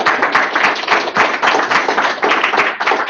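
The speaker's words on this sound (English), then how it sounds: "let's give Rakesh a round of applause" An audience at a tech talk applauds a speaker, a dense room of clapping hands that stays loud and even across the whole stretch.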